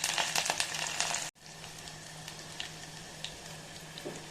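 Crushed garlic and curry leaves drop into hot oil for tempering, giving a bright crackling sizzle that cuts off abruptly. A quieter, softer hiss with faint pops continues afterward.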